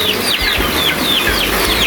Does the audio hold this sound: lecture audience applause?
no